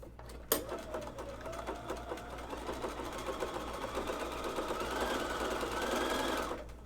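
A sewing machine runs steadily for several seconds while test-stitching women's underwear fabric. The mechanical whirring is close and continuous and rises slightly toward the end before stopping.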